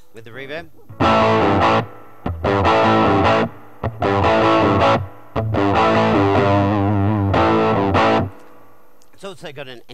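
Overdriven electric guitar through a Big White Monkey Chimp MK3 combo amp with valve-driven reverb strums in several loud bursts separated by short pauses, a reverb tail lingering after each phrase; a voice briefly appears at the end.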